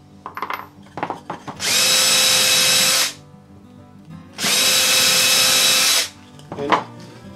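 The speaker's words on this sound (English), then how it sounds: "to drill my pilot holes." A power drill bores pilot holes into plywood in two bursts of about one and a half seconds each, a loud, close, steady whine separated by quiet handling knocks.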